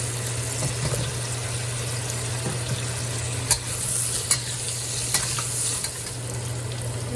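Diced potatoes sizzle in hot oil in a wok before beef is stir-fried for black pepper beef, giving a steady, close frying hiss throughout with a few brief clinks of a utensil and no talk.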